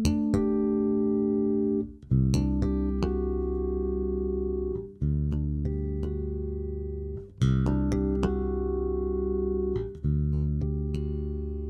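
Bass guitar harmonics played gently through an EBS HD360 NeoLine head with the bright control engaged, bell-like chiming tones ringing over sustained low notes in separate phrases, with no talking.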